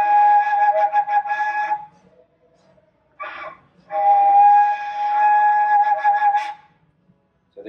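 A conch shell trumpet sounds in a higher, reedy voice: one blast, a short breathy burst, then a longer wavering blast with a rising swell near its end.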